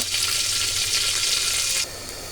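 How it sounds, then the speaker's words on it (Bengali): Frozen vegetables fry in hot oil in a pot, giving a steady, close sizzle that runs unbroken and then drops abruptly to a quieter hiss near the end. "এখানে আমি সবজিগুলো তেলে ভেজে নিচ্ছি"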